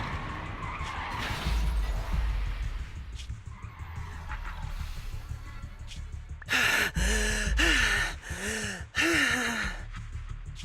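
A car skids hard to dodge an oncoming truck in the video game Zenless Zone Zero. Loud, close tire screeches come in several sharp bursts after a rumbling drive, with breathy gasps mixed in.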